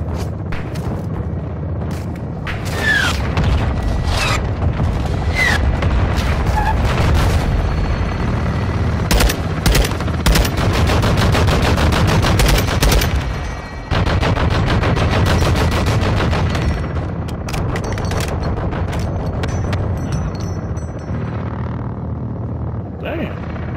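Gunfire in Call of Duty: Modern Warfare 2 rattles in loud, rapid machine-gun bursts with heavy booms and shots, near and sustained, with voices talking beneath the battle noise.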